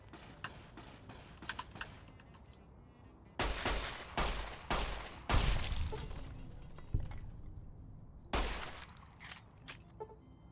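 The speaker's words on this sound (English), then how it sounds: "Stop shooting laser weapons" Laser weapons firing in a video game set in the Mojave, heard as bursts of sharp crackling shots and a few volleys close together, loud against a quieter rattling background with no talk.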